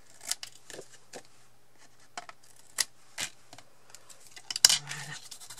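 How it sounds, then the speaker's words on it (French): Scissors trim excess ribbon in a craft project, making a few sharp, quiet snips and clicks separated by near-silence. "je maintiens derrière mon ruban, voilà, pour avoir la bonne grandeur que je veux. Voilà, et je vais couper l'excédent."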